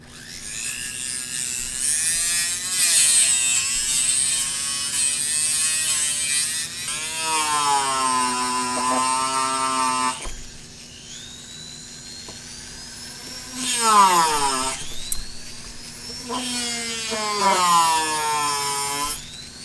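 A rotary tool with a flap wheel bit grinds an MG 81 flash hider, producing a loud, high whine that rises and falls in pitch. The grinding comes in several bursts separated by brief pauses.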